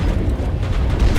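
Surface-to-air missiles detonating in the Mass Effect video game, a dense, continuous rumble of low booming explosions that stays loud throughout with no pauses.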